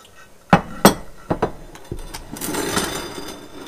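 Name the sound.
salad mixture put into a small glass baking dish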